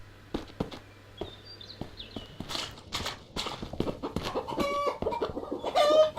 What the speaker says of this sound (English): Yeah, chickens.